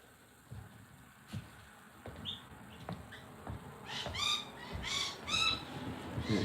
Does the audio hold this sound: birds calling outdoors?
yes